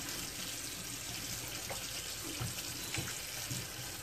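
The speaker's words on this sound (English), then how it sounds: "And I'll just kind of smush these around in the water" Apples are swished and pushed around by hand in a basin of water for apple butter, giving a steady wet sloshing and splashing with a few sharper splashes, close and continuous with no talking.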